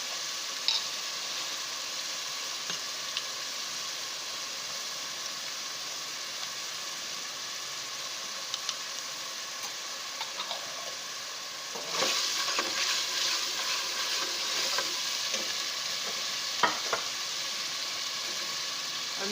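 Onions fry in a pan as ginger garlic paste is added for a dhaba-style chana dal, giving a steady close sizzle that swells louder partway through, with light stirring clicks and no talking.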